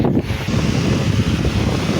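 Steady rush of air from a battery-powered rechargeable electric fan blowing straight at the listener, a close, constant whoosh with slight buffeting.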